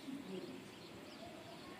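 Domestic pigeons coo softly in a short burst, faint and low against steady background noise, a few gentle calls near the start of the loft scene.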